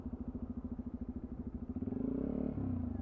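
A 2020 Sinnis Terrain 125 motorcycle engine pulls away in third gear, a steady low single-cylinder thumping that builds into a louder, fuller drone as it gains speed, close to the microphone with no talk.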